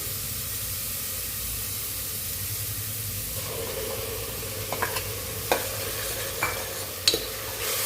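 Ground tomato tipped into a hot pan for a minced meat ball gravy: a steady sizzle shifts as the wet paste lands, followed by a few sharp spoon scrapes and taps while stirring, no speech.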